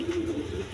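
A racing pigeon cock coos in a close, clear rolling call lasting under a second, with another pigeon present and nobody speaking.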